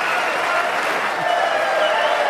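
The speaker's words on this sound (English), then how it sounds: "you wouldn't get this much applause for 147" Sustained applause from the audience at a snooker match, a dense, steady wash of clapping that fills the whole stretch at full strength without a break, with commentary voices faintly beneath.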